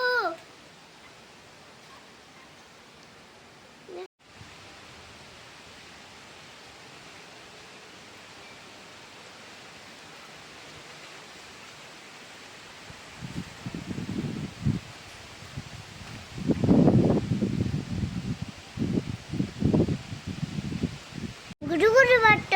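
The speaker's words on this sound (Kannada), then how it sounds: "ಜೋರು ಗಾಳಿ ಪಟ್ಟ ಉಂಟು ನೋಡಿ" Broadband roar of strong wind rushes steadily throughout, swelling into louder gusty bursts toward the end, with a brief voice near the start.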